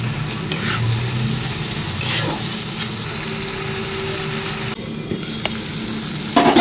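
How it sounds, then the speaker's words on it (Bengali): Masala spices frying with a little water in a pan, stirred steadily under a constant sizzle, with scraping strokes of the spoon at intervals and a louder burst near the end. "মশলা ধোয়া একটু জল দিয়ে কষে নিচ্ছি মশলাটাকে।"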